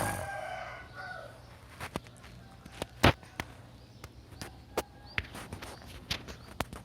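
A chicken on a farm in the early morning, faint clucks and gawking calls heard at a distance among scattered footstep-like knocks on a quiet walk.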